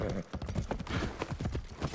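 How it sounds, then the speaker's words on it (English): A horse gallops in the video game Assassin's Creed Shadows, quick rhythmic hoof clip-clops close and steady over about two seconds, with faint ambient sound beneath. "we're going to go ahead and call up the horse"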